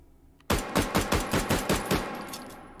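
Makarov pistol in the H3VR video game fired rapidly during a recoil test with an 8-round magazine: eight sharp, close gunshots in quick steady succession, alone with no talk.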